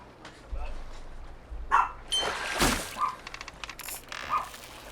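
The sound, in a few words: dog barking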